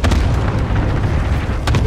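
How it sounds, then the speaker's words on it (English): An airstrike in Call of Duty: Warzone lands with rolling, loud booms and rumbling blasts, several sharper bursts cracking through a continuous heavy low roar. "I'm airstriking that position where they're fighting."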